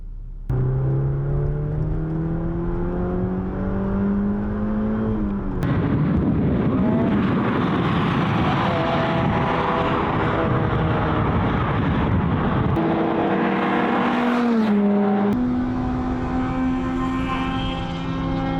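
Two hot hatchbacks, a Honda Civic Type R and a Suzuki Swift Sport, lapping a race track, with loud, continuous engine roars rising and falling in pitch through gear changes, close to the listener and without talk.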